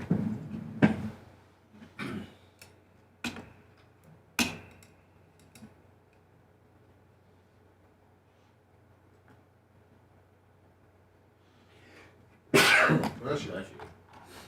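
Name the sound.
a sneeze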